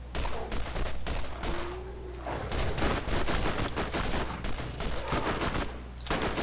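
Rapid gunfire from the Borderlands video game, dense bursts of shots repeating almost without pause for several seconds at steady loudness, with a low droning game background underneath.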